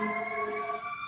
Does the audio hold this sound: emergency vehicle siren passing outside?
yes